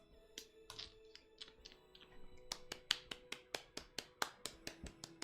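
Real hand claps from one person at a desk, a run of sharp, quick claps that start sparse and irregular, then settle into a fast steady rhythm, close and fairly crisp.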